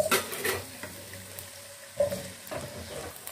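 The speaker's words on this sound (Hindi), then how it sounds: "इसको हम भून लेंगे, आलू को फ्राई कर लेंगे।" Potatoes frying in a little cooking oil in a pan give a soft, steady sizzle, broken by several clanks and scrapes of a spoon stirring against the metal.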